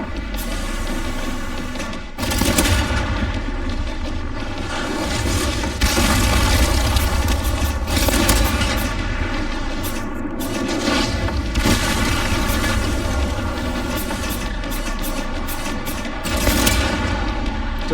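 Mortar firing and shells exploding among zombies in Resident Evil Requiem, a dense, continuous roar of booms and rumbling blasts with repeated heavy impacts, loud and sustained throughout.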